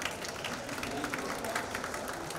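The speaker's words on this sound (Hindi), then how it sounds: "उनके लिए एक बार ज़ोरदार तालियां प्लीज" Audience at a kids festival applauding child dancers, a steady wash of clapping spread through a crowd at moderate volume with no standout voices.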